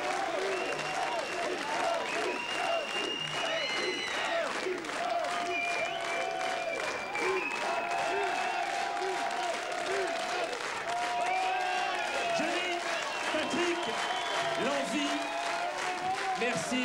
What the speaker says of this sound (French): Je vous demande d'applaudir une nouvelle fois Johnny Hallyday, David Hallyday et Françoise Sagan